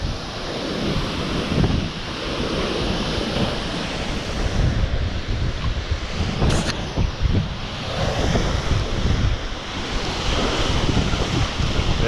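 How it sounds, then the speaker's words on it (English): Aber Falls in Snowdonia, North Wales, swollen by heavy rain, roars as a constant loud, broadband rush of crashing water with gusty wind buffeting the microphone, no voices. "There you go, the mighty Aber Falls."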